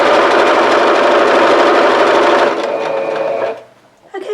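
Sewing machine stitching two jelly roll fabric strips together for a quilt top, a loud, close, steady whirring hum that slows and stops near the end.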